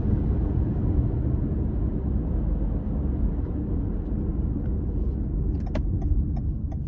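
A 2018 Toyota Camry LE with a CVT drives along, a steady low road rumble and engine drone heard from inside the cabin, with a few faint light clicks near the end and no speech.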